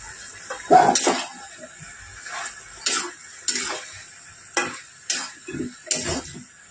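Vegetables and spinach tossed into a pan with fish head for a Bengali spinach chachchari: a series of clattering, rustling bursts of stirring and utensil scrapes, about eight in quick irregular succession, close and fairly loud.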